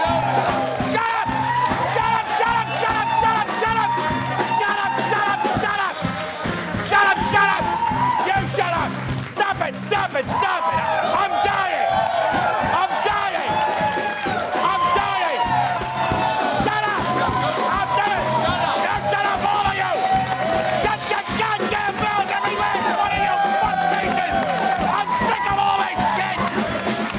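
A studio audience at a comedy talk show taping shouts and cheers loudly and without a break, with whoops and yelling voices layered into a dense, lively roar throughout.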